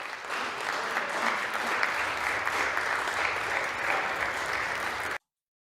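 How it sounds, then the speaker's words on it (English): Applause from a small audience in a room after a congressional farewell speech, steady moderate clapping heard at some distance, continuing for about five seconds before an abrupt stop. "Getting a rousing round of applause from the 13 people in the"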